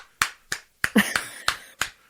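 Single sharp hand claps, about six of them at a roughly even half-second pace in a radio studio, crisp and close, with a brief murmur of voice in the middle.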